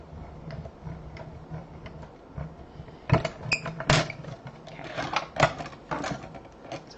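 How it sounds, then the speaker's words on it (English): Paper and cutting plates are cranked through a mini die-cut and emboss machine, making soft clicking and ratcheting mechanical noises that grow busier and louder toward the end, close by and with no voices. "I'm going to slide that through my mini cut and emboss machine"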